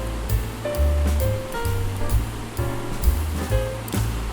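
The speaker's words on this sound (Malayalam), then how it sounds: "ഇത് നല്ല ഫോഴ്സിലും താഴോട്ട് ഒഴുകുന്ന ഒരു വെള്ളച്ചാട്ടമാണ്." Perumbankuthu waterfall pouring down with force, a loud, dense, continuous rush of water heard close by, with a few faint bird calls over it.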